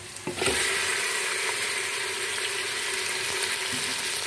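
Steady, close sizzling of beef frying with garlic-ginger paste in a hot pan, with a brief stir or clatter at the start and no talking.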